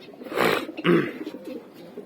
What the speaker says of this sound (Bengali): তো 2-3টা কবুতর আসার পরে এখনো 7-8টা কবুতর শর্ট